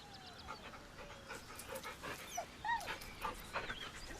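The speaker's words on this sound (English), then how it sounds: "The dog whimpers nervously," Scratch, a dog in Baldur's Gate 3, whimpers nervously, giving short high whines and soft panting breaths. The sounds are scattered and fairly quiet, close up, with no one talking.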